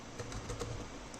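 Quiet, rapid keystrokes on a computer keyboard as code is typed, a close soft patter of several taps in a short burst.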